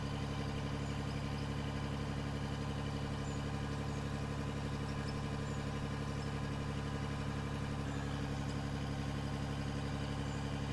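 A mining machine in the video game Out of Ore drones with a steady, monotone engine hum, constant and unchanging throughout with no variation in pitch or rhythm.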